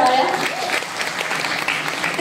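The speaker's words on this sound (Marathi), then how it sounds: "तर एका स्नेहल ताईसाठी जोरदार टाळ्या" A crowd gives warm applause for director Snehal Tarde at a promotional event for the Marathi film Phulwanti, a full, close burst of clapping with a voice heard over it.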